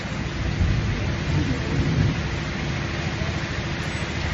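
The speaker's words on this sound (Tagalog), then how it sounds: "Oh, thunder." Low thunder rumbles and swells over steady rain hiss on a river in Bolinao, Pangasinan, Philippines, peaking in the first couple of seconds before easing into a continuous downpour.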